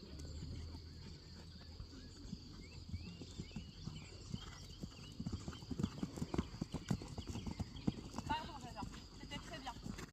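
Several horses walking outdoors after a riding session, hooves clip-clopping in an uneven steady rhythm at moderate distance, with people talking over them and a snort or whinny near the end.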